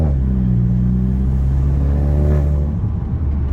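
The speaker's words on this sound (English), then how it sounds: "driving this car, enjoying this car, and you hear that turbo noise" A steady, deep engine rumble with a faint whirring turbo whine on top, as from inside a moving Volkswagen GTI, continuous throughout.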